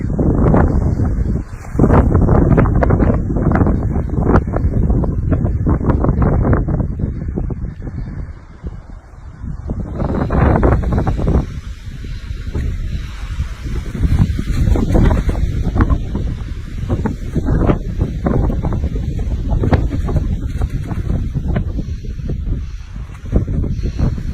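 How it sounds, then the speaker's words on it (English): Strong wind at a campsite roars in heavy, buffeting gusts against the microphone for over twenty seconds, loud and continuous, with rustling and flapping beneath it. "the wind is so strong that it snapped the tree"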